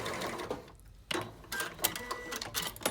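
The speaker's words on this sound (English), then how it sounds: "So we're going to sew this seam" A sewing machine stitches a seam across a quilt top, a close mechanical whirring that runs in short bursts with brief pauses between them.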